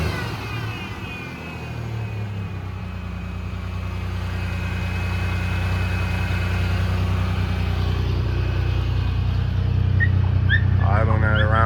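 A $300 budget truck under restoration idles at around 1100 rpm with a freshly timed distributor, a steady low engine rumble with a faint whine from the power steering pump, close and continuous throughout, growing slightly louder toward the end.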